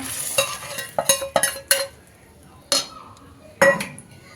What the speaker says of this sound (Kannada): ಈಗ ಸಾಂಬಾರು ಒಗ್ಗರಣೆ ಹಾಕೊತಾ ಇದ್ದೀನಿ